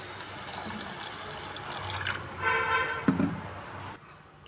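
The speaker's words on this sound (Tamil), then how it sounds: "தண்ணி கொஞ்சம் சேர்த்துக்கிறோம்." Water poured into a pot of fish curry, a brief splashing pour of a couple of seconds rising over faint background kitchen noise, ending with a soft clunk, no talk.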